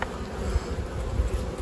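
Honeybees swarm over a hive brood frame of young bees, a steady close buzzing hum that fills the scene without pause.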